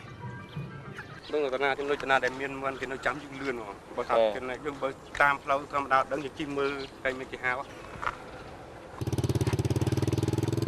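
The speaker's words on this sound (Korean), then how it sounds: "지금 이게 125cc 오토바이인데" A 125cc motorcycle loaded with live chickens in rural Cambodia. After a stretch of people talking, its engine starts a loud, steady, close running drone that lasts for the final two seconds.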